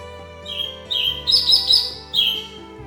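White-rumped shama (murai batu) chicks in a large aviary cage give a string of high, thin chirps, several short calls in quick succession, close and fairly loud over a quiet background.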